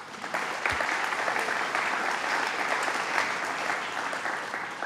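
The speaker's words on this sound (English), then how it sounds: "So let's give her a round of applause" Steady theatre audience applause at a governor's announcement in a Plattsburgh theatre, a dense even wash of many hands clapping that holds throughout, moderately distant.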